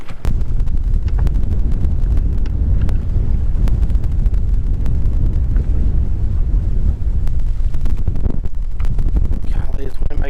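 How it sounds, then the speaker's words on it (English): Strong wind buffeting the microphone while fishing from a boat on a lake, a loud, constant rumbling roar with gusty crackles throughout. "this wind makes it tough to know what's happening"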